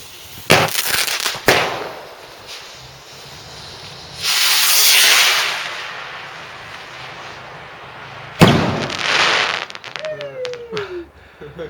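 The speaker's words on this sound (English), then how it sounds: "I've got this brimstone golden crackle here." Brimstone golden crackle firework at an outdoor Bonfire Night display, bursting loudly with hissing crackle in two main surges separated by lulls, plus sharp pops and a faint whistling rocket near the end.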